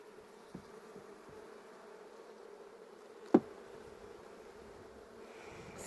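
Honey bees buzzing inside a hive during a summer nectar dearth, a soft steady low hum with a single sharp knock partway through.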